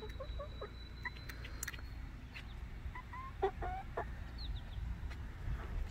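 Twelve-week-old Easter Egger chickens cluck softly and a rooster calls now and then over a low outdoor hum, with scattered bird chirps and no voices.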